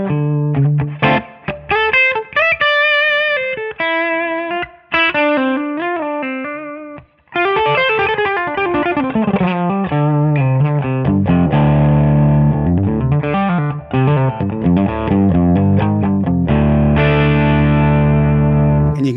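A heavily distorted electric guitar plays loud chords and sustained notes through a high-gain TONEX amp capture on the bridge pickup, driven and saturated, continuous with a few brief gaps.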